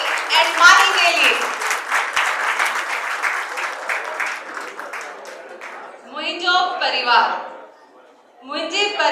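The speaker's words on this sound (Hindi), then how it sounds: "जोरदार तालियां" Applause from an audience at an award ceremony fills the first several seconds, mixed with voices, then fades as a speaker's voice comes through in short phrases.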